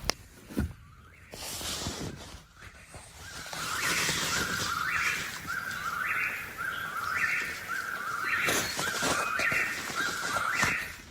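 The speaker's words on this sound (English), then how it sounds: "That bird is a whippoorwill." A whippoorwill calls again and again, its quick whistled phrase repeating in a steady rhythm from a moderate distance over quiet morning ambience.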